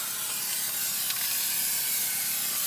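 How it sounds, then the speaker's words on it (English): Aerosol adhesive hissing steadily from a spray can onto Armaflex foam insulation being custom fitted around a sweating air handler, a continuous close, bright spray with no pauses. "Now I'm going to spray my Armaflex too. I'm going to spray my corners because I want a good tight fit."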